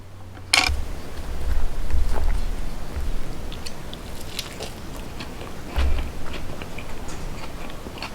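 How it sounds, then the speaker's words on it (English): Chewing a charred hamburger patty mixed with chopped onions, with close, moist mouth sounds and soft bites running steadily under low background noise, with no talking. "We'll taste this little hamburger patty."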